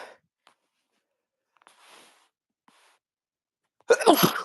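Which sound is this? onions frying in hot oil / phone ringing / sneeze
sneeze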